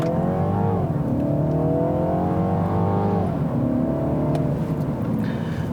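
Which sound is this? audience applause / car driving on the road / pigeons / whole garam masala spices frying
car driving on the road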